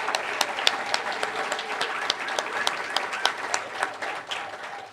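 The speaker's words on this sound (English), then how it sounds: "we'll give you a round of applause." A crowd applauds steadily, many hands clapping in a dense, even patter from a mid-sized audience, sustained throughout.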